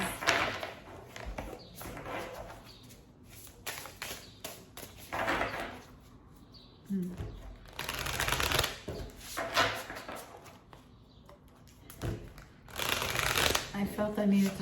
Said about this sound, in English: I felt I needed to shuffle more.